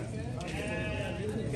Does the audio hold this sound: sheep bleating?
yes